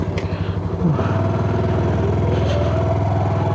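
A Honda Super Cub C125 motorcycle idles close by, its small engine putting out a steady, even chug that continues without a break for a few seconds.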